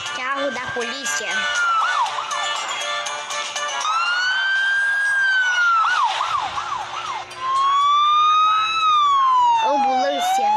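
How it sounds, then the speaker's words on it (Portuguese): An ambulance siren plays loud and close, alternating between wailing sweeps and rapid yelping warbles throughout, with no other sound over it. "ambulância"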